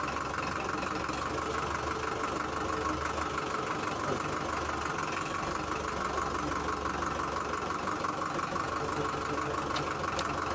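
A mini tractor's engine idles steadily at low volume, a continuous mechanical hum with a faint knocking pulse, running alone without speech.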